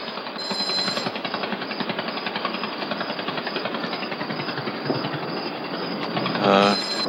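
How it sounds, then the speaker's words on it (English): Simulated sound of the pulsar in supernova SN 1987A: a loud, continuous grinding buzz with rapid rhythmic pulsing, like a fast mechanical chatter, ending with a brief rising whine. "The pulsar in SN 1987A might sound like this"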